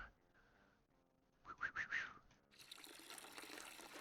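Liquid pours into a container in the Brewmaster beer brewing simulator game: a few short bright tonal chirps, then a steady, fairly faint rushing hiss that runs to the end.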